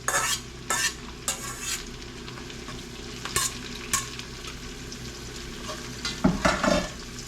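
Leeks hit a hot soup pot and sizzle, with scraping stir strokes recurring every second or so over a steady frying hiss, close and nobody talking.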